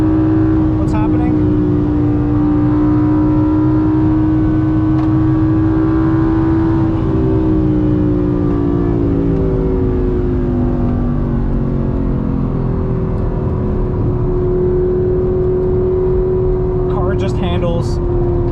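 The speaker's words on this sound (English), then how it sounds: "The car just loves to rev, loves to slam in the gears." A sports car engine revving hard on a race track, a steady loud close drone that rises and dips as the driver shifts gears, with the driver talking over it.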